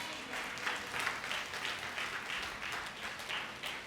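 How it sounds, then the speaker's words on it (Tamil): A church congregation claps together during a Sunday service, producing a soft, rhythmic patter of many hands at a moderate distance that holds steady throughout. "கைத்தட்டுங்க பார்க்கலாம்."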